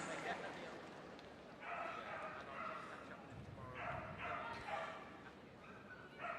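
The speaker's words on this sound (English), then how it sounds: "Next on the line is a rather excitable dog by the sounds of it." A dog barks excitedly in repeated bursts at a distance at a Crufts dog show, yipping and whining over a soft background murmur, with a voice talking at times.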